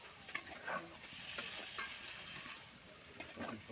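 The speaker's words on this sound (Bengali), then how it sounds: "ভালো করে কিন্তু এভাবে নাড়াচাড়া করে মিশিয়ে নিতে হবে মশলার সাথে বেগুনগুলোকে" Eggplant pieces tossed with spices in a frying pan, faint soft scraping of a spatula against the pan over a gentle sizzle, with a few distinct strokes spread through.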